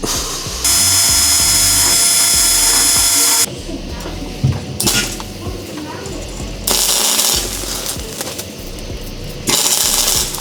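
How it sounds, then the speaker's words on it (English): A power grinder strips coating off a metal part from a 1965 Ford Galaxie, running in loud, steady high-pitched bursts of several seconds each, separated by brief pauses. "So I'm gonna try to grind off this coating"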